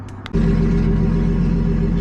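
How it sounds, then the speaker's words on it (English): A car engine with a 1JZ engine swap on a standalone ECU idles steadily with a low, continuous rumble after a brief moment of quieter sound at the start. "we got the car running halfway decent"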